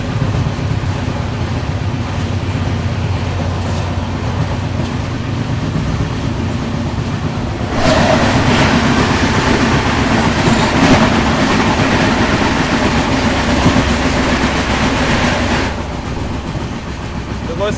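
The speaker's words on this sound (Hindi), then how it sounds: "अभी देखो सामने से ये आ रही है चेन्नई मुंबई सुपरफास्ट।" The Chennai Mumbai Superfast express train rumbles past nearby, a continuous loud roar of wheels and carriages with clickety-clack, swelling midway and easing near the end.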